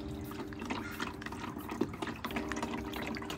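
Coolant and distilled water pour from bottles into an empty coolant jug while mixing a 50/50 premix for a BMW E92 M3 cooling system, a steady gurgling liquid flow with small splashes and drips over a few seconds.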